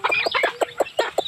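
Chickens and small chicks cluck in quick rhythmic bursts on a hillside farm, close and loud, with overlapping high peeping.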